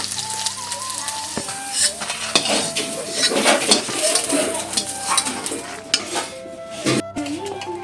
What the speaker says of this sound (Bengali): এরপর দিয়ে দিচ্ছি বেগুন, ভালো করে ভেজে নেব।